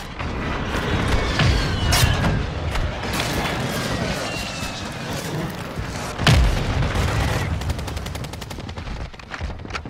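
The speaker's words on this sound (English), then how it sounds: "Friendly airstrike in the AO." A friendly airstrike hits during a Warzone Mobile match: two heavy booming blasts land a few seconds apart, mixed with bursts of machine-gun fire and crackling combat noise, while voices talk over the battle.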